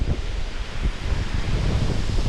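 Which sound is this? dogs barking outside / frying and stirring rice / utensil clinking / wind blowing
wind blowing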